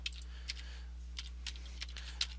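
Keys on a computer keyboard tapped in short irregular bursts, several sharp clicks spaced apart over a steady low electrical hum, close and fairly quiet with no voices.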